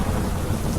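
A heavy monsoon downpour in Gujarat gives a dense, unbroken roar of rain for under a second, loud and close with no voices.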